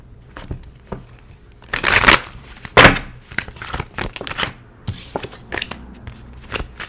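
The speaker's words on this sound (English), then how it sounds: "All right, let's shuffle a little bit longer." Tarot cards are shuffled by hand in irregular bursts of riffling and sliding, close and crisp, with a few sharper louder flurries between quieter rustles.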